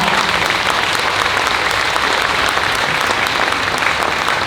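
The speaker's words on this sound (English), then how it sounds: "That's worth a round of applause, ladies and gentlemen" A convention audience at a Q&A session with actor Kevin McNally claps steadily, a dense, even wash of applause with no pauses and no one speaking over it.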